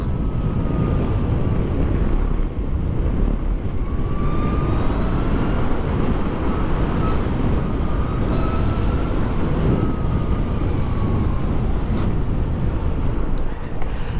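Zero SR/F electric motorcycle accelerating hard on an open road, a rising electric whine over heavy wind rush and road roar that stays loud and steady throughout.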